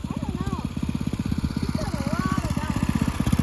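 A brand-new small engine fitted to a Radio Flyer wagon drift trike idles with a fast, even, chugging pulse, close and steady, with no voices.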